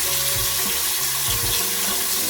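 A face is being washed at a bathroom sink with Curology gentle cleanser, with steady running tap water and close splashing as hands move through the stream.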